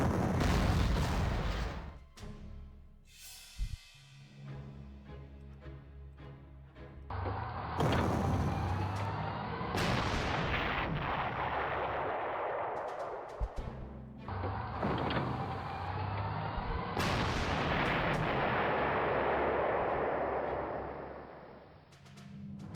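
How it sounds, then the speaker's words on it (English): Submachine gun fire and booming blasts in a World War II strategy game, with repeated loud bursts and impacts alternating with quieter stretches, no talking. "That's an SMG."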